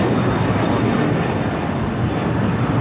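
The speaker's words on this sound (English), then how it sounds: "2479 taking off to Lima, Peru on the 767-300ER" A LATAM Airlines Boeing 767-300ER departs LAX for Lima, Peru, its engines producing a loud, dense, unbroken roar close by that fills the whole short stretch.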